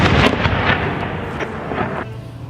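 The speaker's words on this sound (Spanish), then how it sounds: "Tenemos una fuerte explosión frente arriba del edificio de la" A strong explosion near a building in Iraq, heard as a loud booming burst with rumbling, crackling reverberation and a few follow-up thuds, close and heavy.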